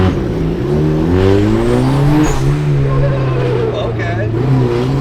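A Volkswagen-swapped BMW E36 engine revs loudly and continuously on a dyno, its drone sweeping upward in pitch and then holding high.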